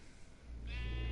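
A Minecraft sheep on a sheep farm gives a single drawn-out bleat, clear and close over a low droning background hum.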